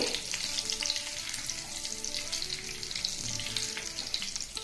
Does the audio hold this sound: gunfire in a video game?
no